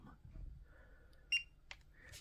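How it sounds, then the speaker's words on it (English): A DOVOH KF3-360G 3x360° floor laser level powers on with a short electronic beep after its power button is held, heard alone against quiet handling noise in a still room. "We have a power button at the top, and we're going to press and hold."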